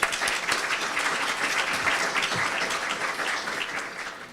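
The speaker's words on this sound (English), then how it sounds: "Please give them a round of applause." A room full of people clapping at a chamber of commerce meeting, dense and steady applause at moderate volume that tapers slightly toward the end.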